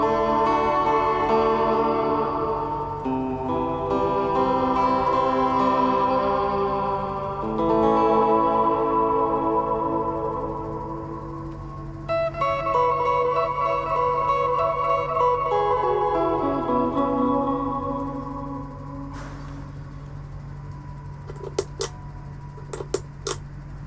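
Electric guitar through a Fender Reflecting Pool reverb pedal plays ringing chords and single notes, each washed in long, shimmering reverb tails that hang and fade; a few clicks near the end.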